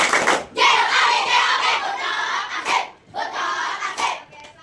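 Schoolchildren in a fifth-grade classroom doing a rhythmic chant-and-clap cheer, bursts of group clapping and shouting in two patterned phrases separated by a short pause, loud and close.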